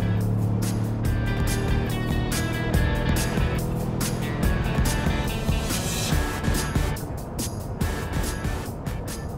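Ford F150 pickup trucks, a High Output gasoline model and a diesel, launching side by side at full throttle in a drag race in Abitibi-Temiscamingue, Quebec, with a loud, steady engine roar and rising tones held for the whole stretch.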